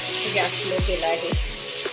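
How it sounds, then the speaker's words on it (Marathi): Onion and ground tomato sauté in a pan over low gas, a soft steady sizzle under a woman's speech, with a couple of low thuds from the spoon or pan. "आता आपला कांदा आणि टोमॅटो चांगला परतून घ्यायचा आहे आपल्याला"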